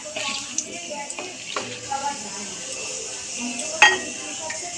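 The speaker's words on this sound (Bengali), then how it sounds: "তারপর দিচ্ছি দারচিনি, তারপর দিচ্ছি 2টো তেজপাতা দিয়ে একটু নাড়িয়ে নেব 2 মিনিটের মতন" Whole spices, cardamom, cinnamon and two bay leaves, being stirred as they fry in a pan, with soft clinks and scrapes over a low sizzle, one sharper clink near the end, and quiet background sound throughout.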